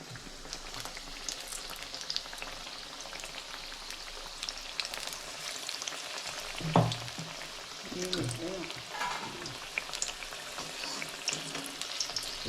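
Bhaji made from ajwain leaves fry in hot oil with a continuous close crackling sizzle, joined by a brief knock and a faint voice partway through.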